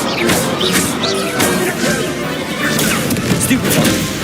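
Stupefy spells striking in the Hogwarts Legacy video game: repeated loud magical impacts with crashing bursts and swishing whooshes in quick succession over busy combat effects.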